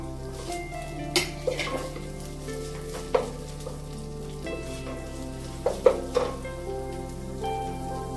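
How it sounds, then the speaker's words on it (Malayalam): Ginger, green chili, garlic and curry leaves sautéing in a pan for chicken roast, a steady sizzle with a low hum beneath and several sharp clinks and scrapes of a spoon against the pan. "ഇതിലേക്ക് ഇഞ്ചി പച്ചമുളക് വെളുത്തുള്ളി ഇത്രയും ഇട്ടൊന്ന് വഴറ്റണം കുറച്ച് കറിവേപ്പിലയും കൂടി ഇട്ട് കൊടുക്കുന്നുണ്ട്"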